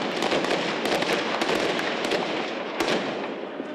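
Gunfire from police shooting at protesters on a hill, a dense, continuous crackle of rapid pops and cracks heard from some distance, with a few sharper reports standing out.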